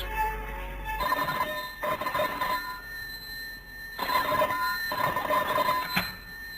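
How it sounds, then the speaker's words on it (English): Old-fashioned telephone bell ringing in an office in a 1950s radio drama: four repeated ring bursts with short pauses between them, loud and close, no voices. "The next afternoon, the telephone rang in John Davis's office."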